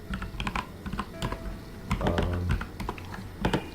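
Close computer keyboard being typed on while writing code, with irregular bursts of crisp keystroke clicks and brief pauses, no talking.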